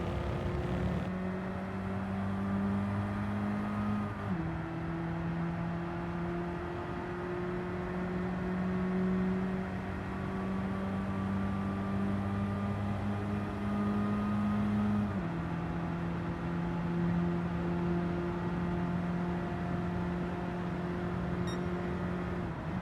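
Racing car engine at speed in Gran Turismo 7, a steady loud droning whine held at high revs, dropping sharply in pitch at two gear shifts and then holding again.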